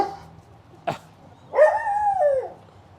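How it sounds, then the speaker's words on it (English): A dog howls during play, a single drawn-out wavering howl that rises and falls over about a second, preceded by a short sharp sound and then quiet, fairly close. "He does the throw the head back and howl."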